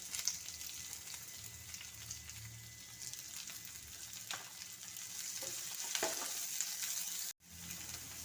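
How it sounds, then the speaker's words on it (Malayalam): Onions fry with curry leaves in a hot pan, giving a steady close sizzle with occasional crackles and a brief stir, and no voices. "എല്ലാം ഒന്ന് മൂത്ത മണം വരുമ്പോൾ സവാള ഇട്ട് കൊടുക്കാം"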